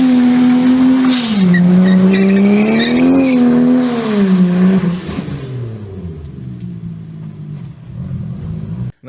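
A car does a burnout at a car wash, with a loud revving engine and sustained tire squeal rising and falling in pitch before the noise fades away.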